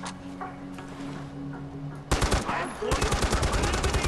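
Rapid gunfire from the Uber gun in the video game Far Cry 4, a quick burst of shots after a quieter stretch, then a second sustained volley of evenly spaced loud reports.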